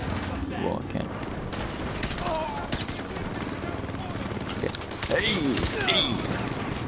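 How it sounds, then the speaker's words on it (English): Rapid bursts of automatic gunfire and mechanical clatter from a Call of Duty Modern Warfare 2 battle, loud and close, with a heavier volley near the end and voices talking over it. "Thank you for shooting me in the back again."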